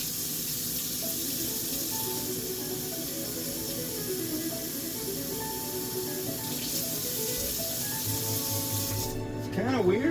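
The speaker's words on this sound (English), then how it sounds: "Make some more room temperature water." Tap water at room temperature runs steadily into a vessel in a home kitchen while instant noodles are prepared, a soft continuous hiss with faint clinks and a rising gurgle as the flow stops near the end.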